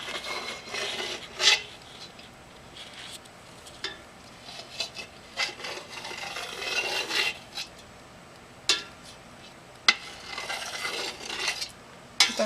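A knife drawn through a soft mass of feta cheese curd in a pot of whey, making faint wet rasping strokes with occasional sharper clicks against the pot, close and quiet.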